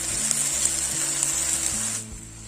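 Tomato puree sizzling in a hot pan as it is stirred into a red sauce for pasta, a bright steady hiss with rhythmic stirring thumps that fades near the end, no talking.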